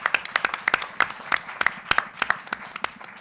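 A small audience at a panel session on reform prospects claps for event staff, a sparse, uneven patter of individual hand claps, fairly close and moderately quiet, with no voices over it.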